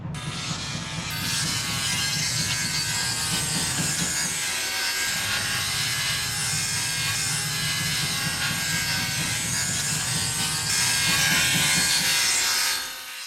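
Steady, harsh grinding of a steel file locked in a wooden block on a grinding machine. It is loud, broadband and continuous, with a brief dip midway and a rise near the end.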